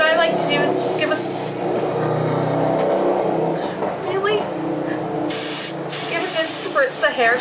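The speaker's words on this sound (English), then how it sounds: "spritz of hairspray" Hairspray hisses from a can onto a 1940s-style updo, a short spritz amid a noisy background of passing traffic, with someone talking over it.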